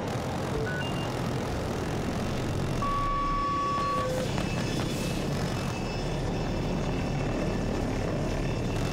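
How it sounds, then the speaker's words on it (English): An attack helicopter in the shooter game Battlefield 2042 thunders overhead with a steady, loud rotor and engine roar, joined by brief electronic tones and other battle noise, with no talk. "it's an attack chopper or super hind"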